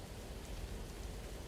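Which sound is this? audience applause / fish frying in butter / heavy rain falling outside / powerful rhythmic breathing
heavy rain falling outside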